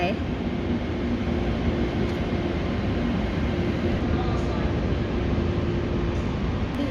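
A long train rumbles past continuously, a dense steady roar with a faint humming tone running underneath throughout.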